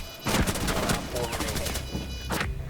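Gunfire in Rainbow Six Siege, several sharp loud shots in quick bursts, including rounds fired through a wall, with game sounds between and no talk over the shots.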